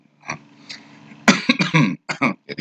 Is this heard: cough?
yes